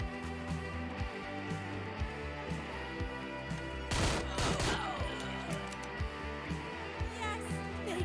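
Gunfire in the tactical game Door Kickers: Action Squad: a quiet bed of music and small impacts, then one sharp burst of rapid shots near the middle, with scattered pops after.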